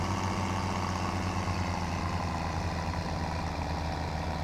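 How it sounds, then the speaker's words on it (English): A tractor engine in the Farming Simulator 17 video game drones at a steady, heavy low rumble while pulling a trailer loaded with pigs up a hill, constant and unbroken throughout. "One thing I always enjoy in this map is climbing this hill and the sound of that tractor."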